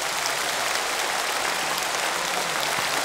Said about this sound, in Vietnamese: xin nhận thêm một tràng pháo tay thật lớn cho vũ đoàn Comment ạ